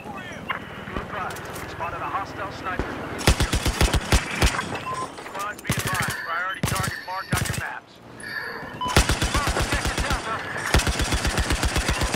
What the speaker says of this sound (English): I'm just shooting for fun.